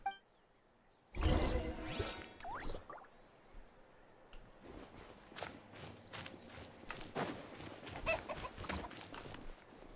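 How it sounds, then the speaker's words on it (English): Chicken clucking in the Genshin Impact video game rises in a burst of squawks and clucks, followed by scattered clucks and soft footstep-like taps at moderate volume, with no talk. "Oh, I heard chicken noises."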